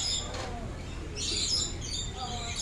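A lorikeet gives a few faint, high chirps and squeaks over steady background noise, the calls coming in short clusters across the clip.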